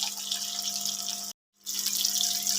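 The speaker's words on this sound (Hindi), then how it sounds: "फिश जो है वो फ्राई हो जाए" Continuous sizzling hiss of fish frying on a tawa griddle, with a steady hum underneath, broken by a brief silent gap before the loud crackle resumes; no voices.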